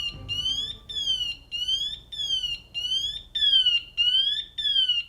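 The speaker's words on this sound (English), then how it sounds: "these devices put out a graduated chirping sound." Firefighter PASS device sounding its graduated chirping alarm: a loud, clear run of repeated electronic chirps in a steady rhythm, growing stronger toward the end, heard alone.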